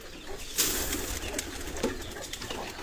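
Teddy pigeons, young and adult birds, in a cage, giving soft coos and bursts of wing flapping against a steady background murmur, faint and somewhat distant.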